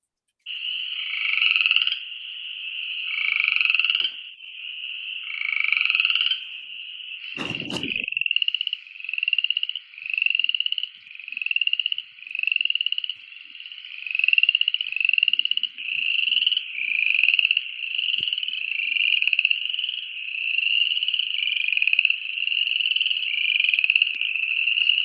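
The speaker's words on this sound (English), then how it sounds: "This is the coarse frog. These guys are also very loud." A small common frog, roughly three-quarters of an inch to an inch and a half long, gives loud, close, repeated trilling croaks in steady pulses for the whole stretch, broken once by a brief sharp knock.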